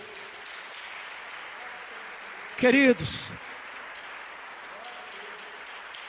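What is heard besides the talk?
audience applause in church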